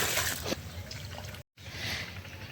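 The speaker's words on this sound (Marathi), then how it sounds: "चला आता यांना मस्त पाणी दिलेलं आहे" Water trickles and splashes steadily as a sapling in a pot is watered outdoors in the sun. The pouring is close and continuous, with one brief silent break before it resumes.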